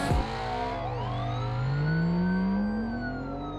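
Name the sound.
Mustang peeling out in video game BeamNG.Drive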